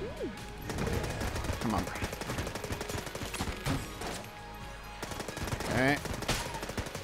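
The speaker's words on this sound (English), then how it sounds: "let's try the Uzi. Or machine gun pistol" An Uzi machine gun pistol in the game Enter the Gungeon fires in rapid bursts of sharp, repeated shots, with game sound effects mixed in and a voice briefly speaking over the gunfire.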